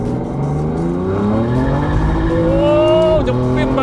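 A BMW M3 with lowered suspension and its rear window open pulls hard in second gear, the engine note climbing steadily and loudly before a brief dip around a shift, heard close from inside the car.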